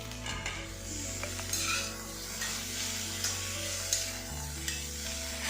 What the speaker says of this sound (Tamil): இந்த மாதிரி நல்லா வதங்கினதுக்கப்புறம் நாம் வந்து ஸ்லைஸ் பண்ணி வச்சுருக்கிற தக்காளியை இதோட சேர்த்துக்கலாம்.